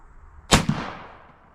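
One sharp, close airgun shot firing a Nielsen knurled boat tail hollow point slug, a crisp crack followed by a brief second impact and a fading tail.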